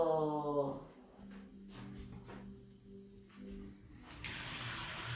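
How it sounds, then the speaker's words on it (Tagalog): Tap water runs into a kitchen sink as celery and carrots are washed, a steady moderate splash with a faint electrical hum beneath, growing brighter and louder toward the end. "Hugasan muna natin ang celery at carrots bago natin hiwain."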